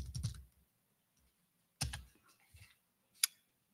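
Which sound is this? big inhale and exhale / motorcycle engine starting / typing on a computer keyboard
typing on a computer keyboard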